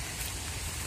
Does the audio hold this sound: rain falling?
yes